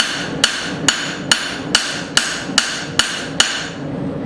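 A hammer forging a short-body tomahawk strikes hot steel nine times in an even, steady rhythm, each blow a loud, ringing clang that decays quickly, with no talking.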